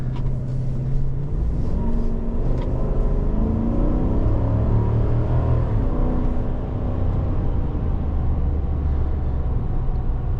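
A 2023 GMC Sierra 1500 Denali pickup with a naturally aspirated V8 and a 10-speed transmission drives along, heard from inside the cabin as a steady low engine and road rumble.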